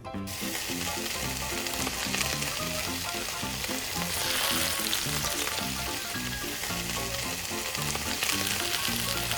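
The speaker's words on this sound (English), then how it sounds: "Boils squid in hot water." Squid cooking in a pot of hot water gives a steady, close sizzling and bubbling hiss that holds at an even level the whole way through, with no voices.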